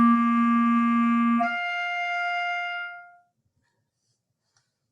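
A clarinet slurs upward from left-hand C played with a high tongue position, a held low tone rising to a clear sustained upper-register note that fades out, then near silence.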